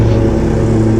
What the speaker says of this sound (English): I'm sorry for the lawnmower.